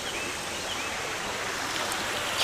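A shallow creek flows steadily, a continuous broad rushing and burbling of water heard up close with no voices.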